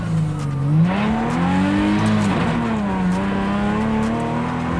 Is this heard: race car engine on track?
yes